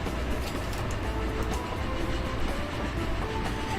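A train rolling along in the railway simulation game Train Fever, a steady, dense rumble with faint clattering that holds evenly throughout, with no voices.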